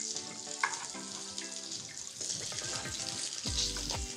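Potatoes fry in a pan just used for steak, giving a soft, steady sizzle with scattered clinks and scrapes of stirring, heard at low level with no talking.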